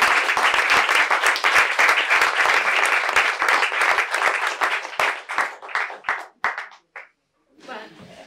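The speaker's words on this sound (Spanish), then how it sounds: "está muy bien este aplauso" Audience applause after a talk on the history of sex work, dense clapping from a crowd that holds steady, then thins into scattered claps and stops, with brief talk at the end.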